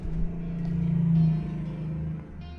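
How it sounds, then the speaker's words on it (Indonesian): A motorcycle passing outside gives a steady droning engine hum that swells and then eases off, heard alone without speech. "ini ada suara motor nih"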